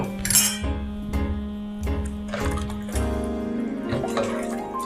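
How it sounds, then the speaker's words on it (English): Cornstarch and cold water slurry is poured into a pan of homemade mushroom gravy, with soft liquid splashes, drips and light clinks of utensils on the pan, close and fairly quiet with no talking. "I put cornstarch with cold water so that it's kind of a milky consistency. And I'm going to put it in here."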